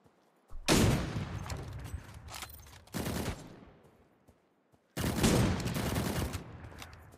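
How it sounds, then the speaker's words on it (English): Laser and rail gun shots fired in the video game Cyber Hunter, coming as three loud, broad blasts, each ringing out and decaying over a second or two, with short gaps of quiet between them. "That laser gun, that rail gun is the most OP gun I have ever seen on a game."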